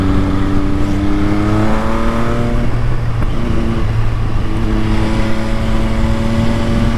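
An MV Agusta Brutale 800 motorcycle engine drones steadily under load while riding, a loud continuous tone whose pitch holds and shifts slightly, with wind noise around it.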